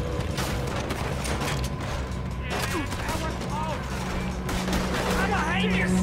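Video game gunfire in Red Dead Redemption 2, a busy Wild West shootout with scattered shots, clanking mechanisms and shouts running under the whole stretch.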